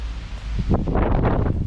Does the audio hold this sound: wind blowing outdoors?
yes